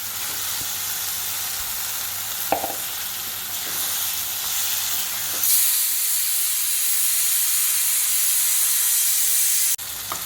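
Chicken goes into a pan of fried masala that has begun releasing its oil, and a loud hissing sizzle surges partway through, then stays steady and intense with steamy crackle and no talking.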